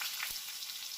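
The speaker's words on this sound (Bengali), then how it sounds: "এবারে সেই তেলে গোটা গরম মশলা আর তেজপাতা ফোড়ন দিতে হবে" Whole garam masala and bay leaves tempering in hot oil for prawn malai curry, giving a dense, continuous crackling sizzle at close range with a faint low knock partway through.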